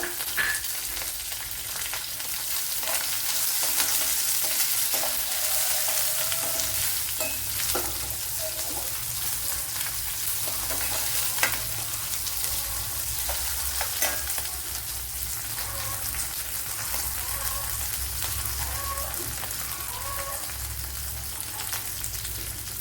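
Crushed garlic, green chilli and a small piece of ginger fry in a pan for a prawn curry, producing a continuous, close crackling sizzle with scattered pops and stirring sounds throughout.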